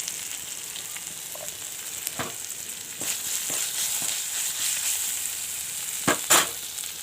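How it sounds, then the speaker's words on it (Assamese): Chopped onions sizzle steadily in hot oil with turmeric in a home kitchen, with a constant frying hiss and occasional scraping stirs of a spoon in the pan, no voices. "পিঁয়াজখিনি ভালকৈ ভাজি লৈছোঁ"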